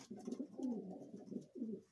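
Pigeons in a breeding loft coo in low, throaty rolling phrases, several overlapping calls close by with brief pauses between them, clear and alone without any talk.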